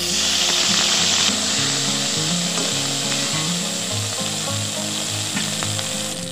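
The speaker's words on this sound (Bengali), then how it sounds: "কড়াইতে তেল দিয়ে দিচ্ছি। তেলের মধ্যে দুটো শুকনো লঙ্কা দিয়ে দিচ্ছি, পাঁচফোড়ন দিয়ে দিচ্ছি, হিং দিয়ে দিচ্ছি" Dried red chillies, panch phoron and hing hit hot oil in a kadai, producing a dense, continuous sizzle that stays loud and close, with a tonal melody running underneath.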